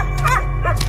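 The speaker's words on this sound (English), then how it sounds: "What the dog doing?" A dog gives a couple of short, close yipping barks, loud and separated by a brief pause.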